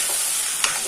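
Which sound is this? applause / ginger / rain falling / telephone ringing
ginger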